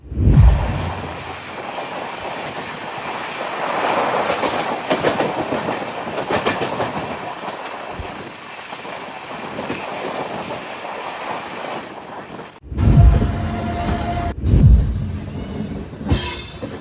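The Ratnachal Superfast Express, an LHB train running from Vijayawada to Visakhapatnam, rumbles steadily from onboard with rushing wind and rhythmic wheel clatter, growing louder and harsher near the end.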